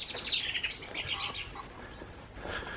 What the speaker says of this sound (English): that was a blackbird feeling a bit threatened